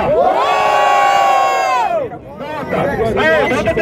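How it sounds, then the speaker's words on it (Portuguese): Crowd at the grand final of a Brazilian rap battle, Batalha da Aldeia in Barueri, São Paulo, roars and cheers loudly, then shouting voices and cheers rise again while a voice calls out over the noise. "Barulho pra quem gostou das rimas do Mota"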